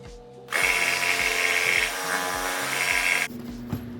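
A power tool whines loudly through a live edge wood slab for about three seconds, cutting along a curved line, then stops, leaving a quieter background.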